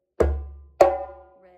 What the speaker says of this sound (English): So it's a bass and a slap.